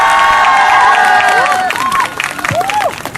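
Crowd at a student press conference and protest near a statue in front of an embassy cheers and applauds loudly, with shouts and whoops rising over steady clapping for a few seconds.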